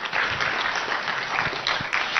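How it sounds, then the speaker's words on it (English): A crowd at a political party's student chapter event breaks into brisk applause, dense and fairly loud for about two seconds. "Clap for him."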